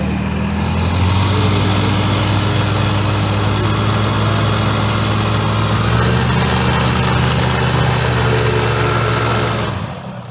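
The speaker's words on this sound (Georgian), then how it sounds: "ორივე ძრავა გაშვებულია." Both engines of a twin-engine light aircraft run together on the ground, making a loud, steady, close droning hum. The drone holds for the whole clip and then drops off abruptly at the very end.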